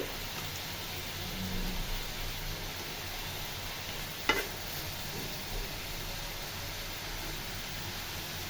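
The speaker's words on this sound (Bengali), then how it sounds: "আস্তে আস্তে এভাবেই আমি মিষ্টি কুমড়াকে নেড়ে চেড়ে ভালোভাবে সেদ্ধ করে নিব।" Sweet pumpkin cooking in a pan, with an even, rain-like sizzle throughout and a single sharp utensil scrape near the middle, close and moderately loud.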